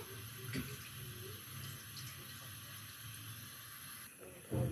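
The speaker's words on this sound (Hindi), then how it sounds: "अब हम इसके अंदर ऑयल डालेंगे" Cooking oil pours into a karahi for mutton karahi as a steady, close, soft trickling stream lasting several seconds, then stops with a faint clatter.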